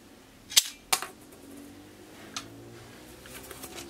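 A 1980s T.D. Jackson Rambo action figure's toy gun fires two sharp, snappy cracks in quick succession, close and loud against a quiet room, followed by a few faint small clicks.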